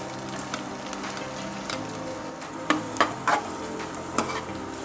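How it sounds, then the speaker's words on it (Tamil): Chopped onions frying in a little hot oil in a kadai, a soft steady sizzle broken by several sharp scraping stirs near the end, fairly quiet with no voices. "எண்ணெய் சூடான உடனே இதில் கட் பண்ணி வச்சுருக்கிற வெங்காயம் ஆட் பண்ணிக்கலாம்"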